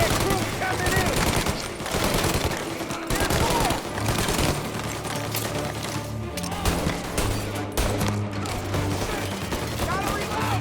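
Sustained gunfire in Mafia Definitive Edition, with dense automatic bursts and repeated shots running loud and continuous throughout, layered over a steady game soundtrack.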